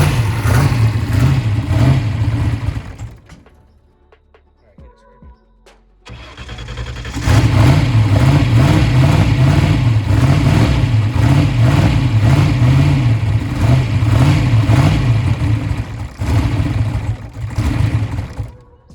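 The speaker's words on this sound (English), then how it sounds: "This big motor is rowdy. It needs a bunch of fuel." Big engine running on methanol, revving hard and rough as it runs lean, cutting out briefly near the start before roaring back with a loud, uneven, pulsing rumble.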